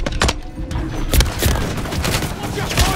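Gunfire in a Call of Duty Modern Warfare III multiplayer match: rapid overlapping bursts and sharp cracks from several weapons, loud and close, with a few heavier booms and faint radio-style voice chatter underneath.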